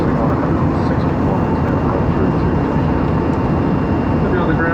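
Steady loud broadband roar of an airliner cabin during descent into Auckland, a constant engine and airflow rumble filling the space with no breaks.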